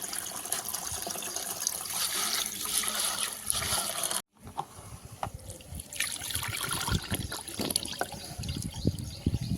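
Soaked chickpeas being washed in water, with close trickling, splashing and sloshing throughout, broken by a brief silence midway.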